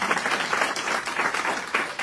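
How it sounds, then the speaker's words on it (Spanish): A church congregation at a retreat service breaks into dense, sustained applause from many hands, a steady wash of clapping across the whole moment. "Dan un aplauso al Señor"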